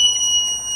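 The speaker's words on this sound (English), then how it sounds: "And there goes the alarm." A water sensor alarm, triggered as bath water reaches it, sounds as a loud, steady high-pitched electronic tone with layered piercing pitches, continuous and unaccompanied.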